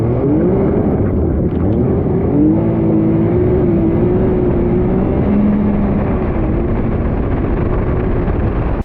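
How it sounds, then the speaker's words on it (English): Can-Am Maverick X3 DS Turbo side-by-side with a 900cc Rotax turbocharged triple engine, a loud steady engine drone running throughout with pitch rising and falling as it revs, heard close with no talk. "It's a 900cc Rotax turbocharged triple, which puts out 135 horsepower."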